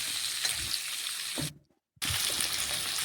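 Hog plum and carrot frying in a pan for a hog plum chutney, a steady close sizzle that cuts out briefly and then resumes.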